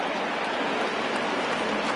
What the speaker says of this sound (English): right now this field is getting sloppy wet, Matt, and I don't know how much more rain this field can take